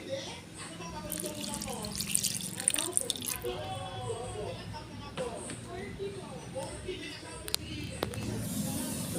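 Water runs and splashes into a pot of chicken adobo with liver and gizzard, a continuous trickling pour with a few clinks, while a person talks over it.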